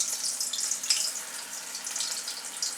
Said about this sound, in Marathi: तेल गरम करत ठेवायचं आणि मीडियम गॅसवर ह्यांना फ्राय करायचे